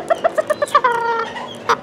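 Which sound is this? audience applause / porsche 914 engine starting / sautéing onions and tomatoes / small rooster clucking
small rooster clucking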